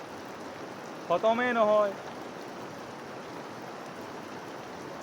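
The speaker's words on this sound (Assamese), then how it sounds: "ইমান বৰষুণ গিৰি আছে ইয়াত" Heavy rain falls steadily in Itanagar, making a constant wide hiss from start to end. A person speaks briefly near the beginning over the rain.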